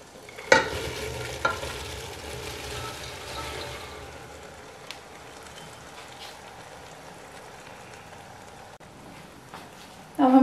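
Fresh peas and radish pods (mongray) tossed into a hot pan for a Mongray Matar Sabzi, with a sharp clatter as they land, then a steady stirring sizzle, and louder scraping again at the end.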